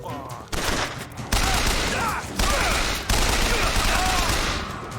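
Sustained automatic gunfire in the video game Bioshock Infinite, loud bursts that kick in after a quiet opening and keep rattling with brief gaps, dense and close with game sound effects layered underneath.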